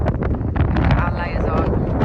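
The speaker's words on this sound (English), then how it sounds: "It is really windy up this way." Strong gusting wind buffets the microphone on an exposed mountain path up Snowdon in Wales, a loud continuous roar, with people talking under it.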